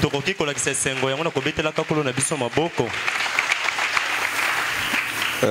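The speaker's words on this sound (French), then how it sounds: "Est-ce qu'on peut le montrer en acclamant pour notre Seigneur?" A church congregation bursts into applause and cheering for the Lord, a loud, dense clapping crowd that follows a few seconds of a voice.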